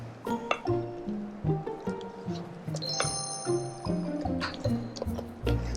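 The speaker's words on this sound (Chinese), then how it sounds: "把它拌一拌，以顺时针的方向" Flour is stirred clockwise into cake batter for a molten lava cake, making soft wet squishing sounds. Light clinks of the utensil against the bowl repeat in an irregular rhythm, close and fairly quiet.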